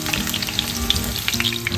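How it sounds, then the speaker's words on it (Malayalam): Chicken strips deep-fry in hot oil for restaurant-style dragon chicken made at home, a close, busy crackle of sizzling bubbles with small pops throughout and no talking. "അപ്പം നമുക്കിതിനെ ഒന്ന് കോരിയിട്ട് ബാക്കിയും കൂടെ ഒന്ന് ഫ്രൈ ആക്കി എടുക്കാം"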